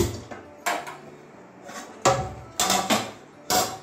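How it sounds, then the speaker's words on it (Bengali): A wok is set on a gas stove in a home kitchen, giving a scattered series of sharp metallic clanks and knocks, several close together, in an otherwise quiet room. "এবারে গ্যাস ধরিয়ে নিচ্ছি, কড়াই বসিয়ে দিয়েছি।"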